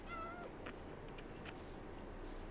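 A pet cat gives a brief, faint meow near the start, followed by a few soft clicks and rustles in a quiet indoor room; no one speaks.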